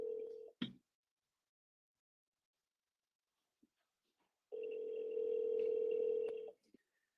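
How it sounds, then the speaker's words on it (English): Phone ringing during a live stream: a short electronic ring, then a pause with a faint click, then a longer sustained ring tone, close and clear with no talk. "Let me know if you guys can hear my phone ringing."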